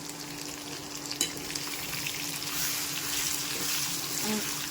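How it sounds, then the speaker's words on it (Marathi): Half a spoon of turmeric and a heaped spoon of Kashmiri red chili powder frying in hot oil for an amla and raw mango chutney, a steady close sizzle with one brief clink near the start and no talking. "आता हे मस्तपैकी तेलामध्ये फ्राय झालेले आहेत"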